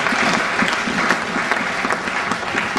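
A church congregation applauds and acclaims the Lord, steady dense clapping from a crowd for about three seconds, with a few faint cheers mixed in.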